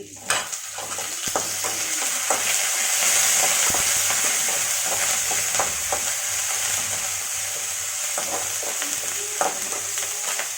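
Green chilies and curry leaves frying in hot oil with garlic in a pan, a loud continuous sizzle heard close up with occasional stirring clicks, no voices.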